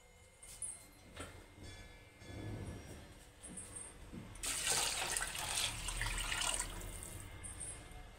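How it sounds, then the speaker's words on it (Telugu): Water is poured from a pot into rice that was frying, starting with quiet clinks and a low sizzle and then becoming a steady rushing splash and hiss that lasts several seconds. "నెక్స్ట్ దీంట్లో రైస్కి సరిపడా వాటర్ వేసుకుందాం"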